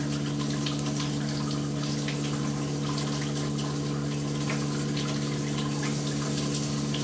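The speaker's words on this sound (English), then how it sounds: "She's using paper towels to turn the water on." Tap water running steadily into a sink for handwashing, a loud continuous splashing rush with a constant hum underneath, no voices.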